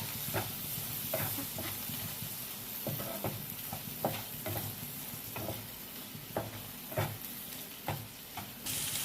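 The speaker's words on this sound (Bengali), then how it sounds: "এবার দিয়ে দেব হলুদ, ভালো করে নাড়াচাড়া করে নেব।" Parshe fish masala with turmeric and salt fries in a pan, giving a soft, continuous sizzle broken by repeated scraping stir strokes at an uneven rhythm, with no voices.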